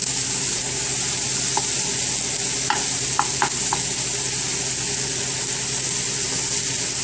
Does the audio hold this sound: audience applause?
no